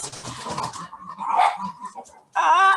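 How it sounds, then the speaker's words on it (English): Pet dogs barking at home during an online meeting, a few sharp yips and barks mixed with a whimpering whine, then a louder burst of barking at the end, heard under and between a man's speech. "those are my dogs"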